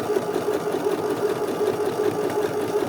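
Sewing machine overcasting fabric edges for trousers with a wide, close zigzag stitch: a loud, steady, rapid mechanical whirring and rattling that runs continuously and close up throughout.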